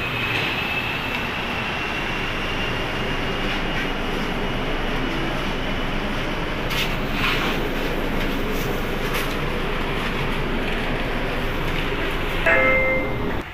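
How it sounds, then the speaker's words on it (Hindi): A train pulling into a station in Malaysia and then carrying passengers, with a steady loud broadband rumble and rail noise throughout and a brief high squeal near the end. "ओके जी, ट्रेन आ चुकी है हमारी, अभी बैठते हैं ट्रेन में।"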